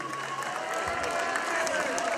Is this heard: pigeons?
no